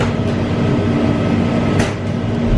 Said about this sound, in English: Please hold on while the train is moving.